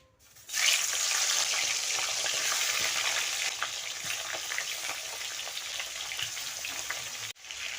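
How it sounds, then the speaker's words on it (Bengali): Fish fries in hot oil in a wok with a loud, dense, continuous sizzle that bursts in abruptly and crackles close up, easing slightly partway through, with no talking. "কড়াই গরম হয়ে গিয়েছে আমি তেল দিয়ে দিয়েছি তেলটাও গরম হয়ে গেছে আমি মাছটা ভেজে নেব"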